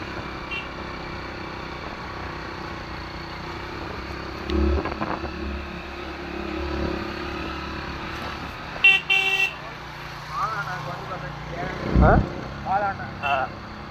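Steady engine rumble of a new bus on Kodaikanal Road, with a horn toot and some voices in the background, then a brief louder knock.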